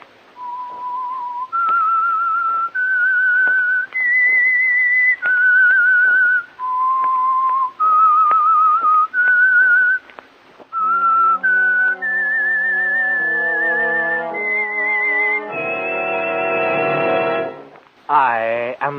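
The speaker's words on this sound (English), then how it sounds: "That whistle is your signal," Someone whistles the eerie theme tune of the old radio show The Whistler, a loud clear solo melody of sustained held notes rising and falling, joined by orchestral music partway through and ending on a swelling chord.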